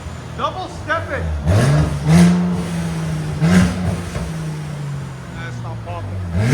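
Repeated revving from a 2017 Mercedes C43 3.0L twin turbo V6 exhaust fitted with downpipes and a Wesgate cat-back, a few loud rising pulls over a rumbling idle, nearby, with voices chatting in between.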